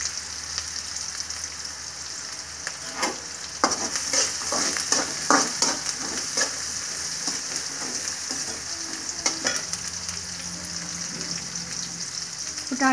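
Cumin and mustard seeds sizzle and crackle steadily in hot oil for morning avalakki tiffin, a continuous hiss with scattered pops and a few stirring scrapes.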